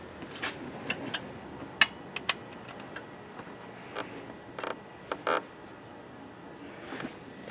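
Honda Odyssey belt tensioner being tightened with a 10mm long socket and tool, giving scattered sharp metallic clicks, ticks and creaks at uneven intervals over a quiet background.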